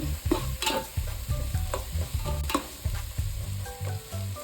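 Chili powder fries in hot oil for Ambur dum biryani, a steady close sizzle under repeated stirring scrapes and clinks of a spoon against the pan, with no talking.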